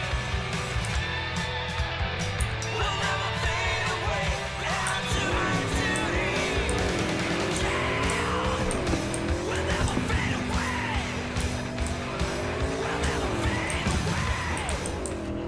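Akira motorcycle, the fastest in Cyberpunk 2077, on a test drive through Night City: a loud, continuous engine drone rising and falling in pitch as it accelerates and shifts, with faint percussive game sounds layered above.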